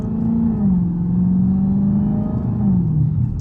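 A 700-horsepower Dodge Hellcat drones from inside the cabin while driving, a loud, steady low engine rumble that shifts pitch slightly as it eases and builds again.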